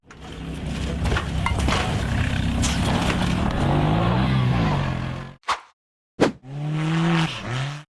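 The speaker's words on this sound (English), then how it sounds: "The white-framed buggy accelerated hard and charged up a steep sand dune at full speed." A white-framed off-road buggy's engine roars hard at full throttle while charging up a steep sand dune, loud and sustained with rising revs, then cutting out abruptly before another short burst and a revving tail.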